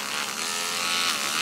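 A small Dremel rotary tool fitted with a wire wheel buzzes steadily at close range as it scrubs rust from the hands of a 1934 Ingraham Bedford wall clock.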